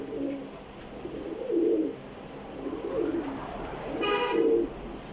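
Pigeons coo in soft, repeated low phrases, several rising and falling swells across the stretch, with a brief higher tonal burst near the end, close by in a pigeon loft.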